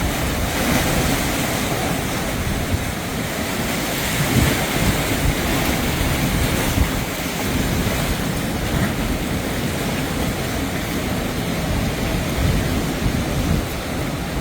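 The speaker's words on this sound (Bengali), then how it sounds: "আপনারা হয়তো পানির শব্দও শুনতে পাচ্ছেন।" Large ocean waves break continuously on the Saipan Island shore, a loud, dense roar of surf with no pauses, close and unbroken.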